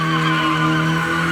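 Mazda Miata spinning in tight circles at a car meet, its tires skidding and squealing in a loud, steady howl over a strained engine with no pauses.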